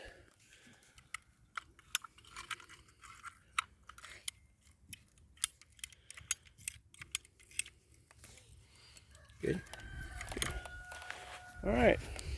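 Irrigation tubing being cut with scissors-like snips, a string of sharp close clicks and crunches, followed by louder rustling handling noise toward the end.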